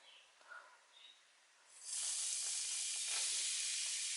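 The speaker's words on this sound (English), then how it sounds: "So I'm going to be adding the curry to the oil" About 2 teaspoons of curry powder hit a little hot oil and erupt into a loud, steady hiss after a couple of faint clicks, then sizzle evenly to the end.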